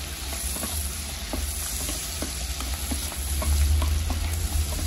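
Mushrooms fry in a pan while being stirred, a steady close sizzle with scattered scraping and clicking of the utensil, swelling slightly toward the end, no speech.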